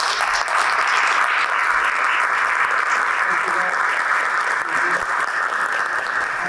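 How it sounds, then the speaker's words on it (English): Audience at a board of education meeting applauding award winners, loud sustained clapping from a full room with no break. "one more round of applause for our winners"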